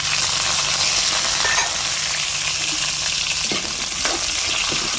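Onions and tomatoes sauté in a hot pan with a steady, loud sizzle and occasional stirring scrapes throughout, no voices.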